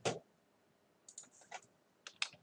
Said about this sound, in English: having trouble typing